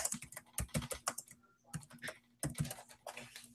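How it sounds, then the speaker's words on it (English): Fingers type on a computer keyboard nearby: quick, crisp keystrokes in bursts separated by a short pause, quiet and with no talking. "I'll just type it out."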